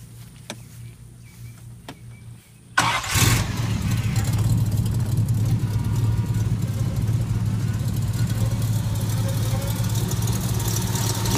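A 1927 Mercedes racing car's 12-cylinder engine cranks and fires up, then settles into a loud, steady, smooth running roar close by after a few quiet seconds with faint clicks.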